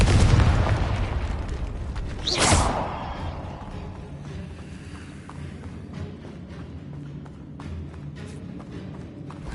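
Confringo blasting spell from the Hogwarts Legacy video game: one sharp, loud burst about a quarter of the way in, trailing into a rumbling fade over a steady low ambient drone.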